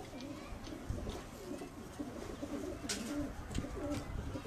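Pigeons coo on a rooftop loft, soft repeated low calls close by, with faint voices and scattered background noise around them.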